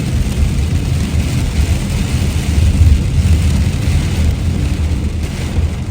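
A loud, unbroken roar of heavy pouring rain in Canada with a heavy low-end rumble, steady throughout with no voices.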